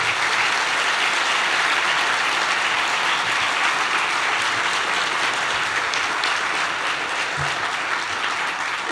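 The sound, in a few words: applause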